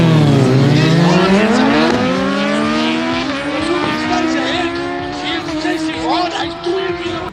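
Toyota Corolla drag racing car accelerating at Saldanha drag strip in strong side wind: a loud engine revving upward through rising gears, close and sustained, with people talking over it.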